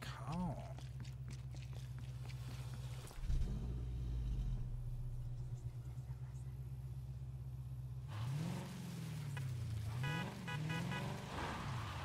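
In the video game Call of Duty Cold War zombies mode, a low car engine rumble hums steadily, then drops away before the car revs with rising and falling pitch amid game noises.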